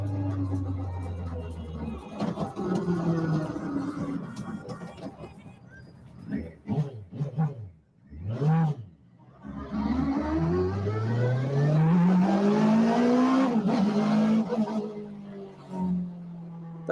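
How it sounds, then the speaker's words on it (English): A small Peugeot 106 fitted with a 1000cc motorbike engine revs hard, rising and falling in several sharp bursts before a long high-pitched scream as it pulls away, loud and near. "Just put a motorbike engine into the car. It sounds fucking crazy."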